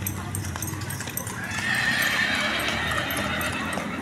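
Horses outside a cathedral in Santo Tomas whinny and clop their hooves on pavement, fairly faint and mixed with street ambience and nearby voices.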